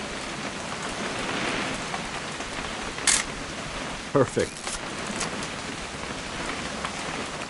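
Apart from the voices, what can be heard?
rain falling in video game What Remains of Edith Finch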